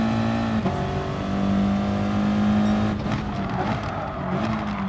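A race car in a racing video game at Blue Moon Raceway, its engine droning steadily with a tonal hum, shifting as the handbrake is pulled and the tyres skid through a corner.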